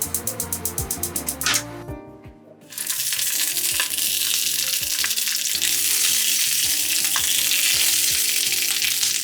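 Finger-length pieces of green onion hit a hot pan after a quick run of sharp clicks and a short pause, then a loud, continuous sizzle carries on steadily.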